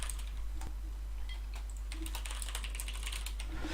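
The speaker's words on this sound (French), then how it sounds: "je vais vous montrer avec mon clavier avec quoi je joue déjà, de base" Rapid clicking keystrokes on a gaming computer keyboard, close and crisp, in uneven bursts that grow busier toward the end over a low steady hum.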